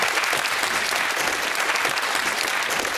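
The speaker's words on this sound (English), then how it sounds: "Give yourselves a round of applause." A studio audience at a quiz show claps steadily in a dense, even burst of applause that lasts the whole few seconds, with no voices on top.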